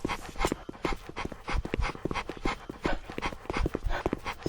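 A dog pants rapidly in the Roblox game Mad City, a steady run of quick, breathy huffs. The panting is close and fairly loud and carries on without a break.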